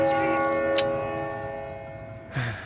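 A bell rings in the video game Uncharted 4, giving a faint, sustained metallic tone that slowly fades, with a couple of brief soft knocks.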